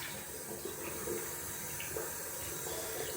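Water from a tap runs steadily in a sink while a shaving cup is rinsed off, a continuous gentle splashing wash at moderate distance with no talking.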